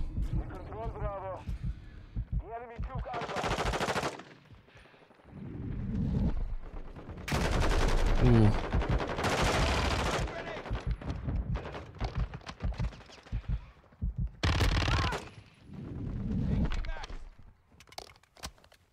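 Carbine gunfire in Modern Warfare 2, with short bursts and single shots scattered among footsteps and game noise, mostly under frequent excited talking from the player.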